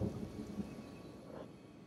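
Steady rain with a low rumble of thunder in the open-world video game Kenshi, a quiet, continuous wash of rainfall with soft distant rolling underneath and no voices.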